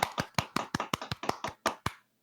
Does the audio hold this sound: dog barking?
no